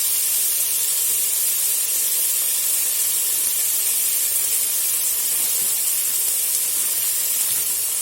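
Onion and mixed peppers sizzling in a pan for a budget couscous made from leftovers, a steady close hiss of frying and steam running unbroken throughout with no talk.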